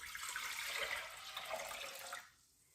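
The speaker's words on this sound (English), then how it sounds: "So I'm gonna go ahead and start heating up this saucepan and add the water." Water pours into a saucepan for a cucumber pickle brine, a steady splashing rush that runs for about two seconds and then stops abruptly, close by with no talking.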